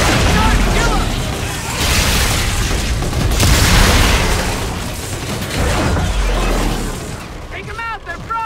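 Explosions and heavy gunfire fill a Call of Duty: Infinite Warfare firefight, with loud dense booms and bursts rolling on for several seconds as a shock grenade goes off, and voices shouting over the din.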